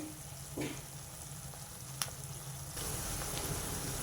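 Sliced onions softening in oil in a pan while dried prawns and brinjal curry are being prepared, producing a faint, steady low sizzle with a couple of soft clicks and no voices.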